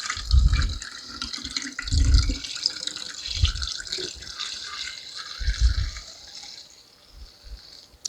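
Homemade almond milk is poured into a container, a steady liquid gush and trickle with several low glugging pulses, close and fairly loud, tapering off toward the end.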